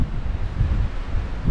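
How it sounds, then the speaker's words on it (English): Strong winter wind roars and buffets a microphone at a lakeside campsite on Kerr Reservoir, North Carolina, a continuous rumbling gust with no voices. "Very windy."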